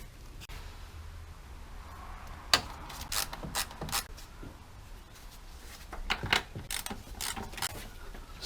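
A hand ratchet works loose the bolts on the electronics box of a BMW E46 330i with an M54 engine, giving several bursts of quick clicking close by over a quiet garage background.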